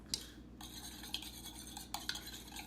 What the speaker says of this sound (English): I'm gonna whisk this